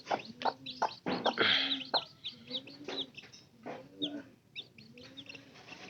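Newly hatched chicks and adult chickens peep and cluck in a quick, uneven series of high chirps, close by and fairly quiet, with no talking.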